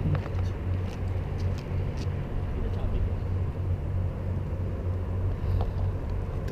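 Boss Jun's car runs with a steady low engine rumble and road noise from inside the cabin, continuous and moderately loud.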